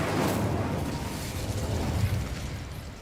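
An Incendio fire spell cast in Hogwarts Legacy, a steady, dense whooshing roar of flame that holds at a near, even loudness for a few seconds before easing slightly.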